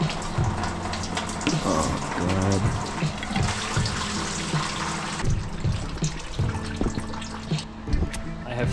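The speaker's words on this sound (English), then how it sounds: "I've finally got all the coolant drained out of my radiator" Coolant pouring and splashing out of a Jeep XJ radiator into a catch container in a garage, a continuous close trickling and gurgling stream with an abrupt change partway through.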